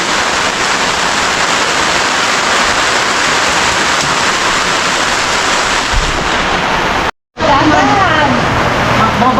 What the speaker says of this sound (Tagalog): pumatak yung ulan